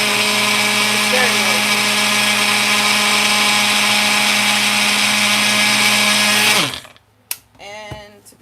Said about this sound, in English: I'm blending up some oat flour now